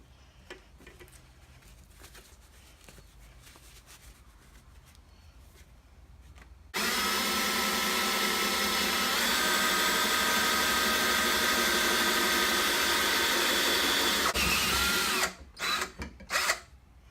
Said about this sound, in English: I've drilled the holes in the 3 plates.